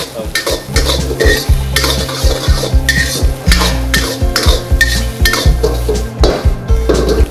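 Rice frying in butter in a hotel kitchen pan, stirred vigorously: loud repeated scraping and clanking of a utensil against metal in a steady rhythm over a continuous sizzle, close up, no talking.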